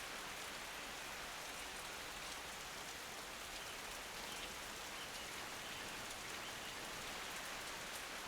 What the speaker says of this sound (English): Do enjoy the sound of the rain.